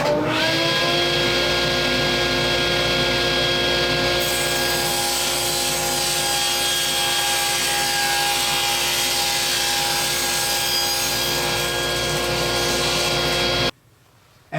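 Table saw cutting a taper in wood using a taper jig, a loud, steady whining roar that holds for about fourteen seconds, then cuts off abruptly.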